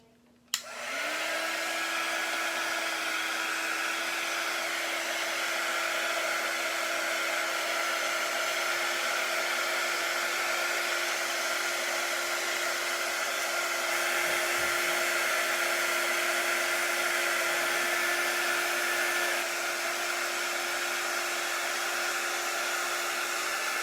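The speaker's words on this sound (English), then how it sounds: "I'm going to get my heat tool." A heat tool dries ink on a chalk craft project, switching on with a click and then blowing a loud, steady whirring hiss that runs unbroken for over twenty seconds with no talking.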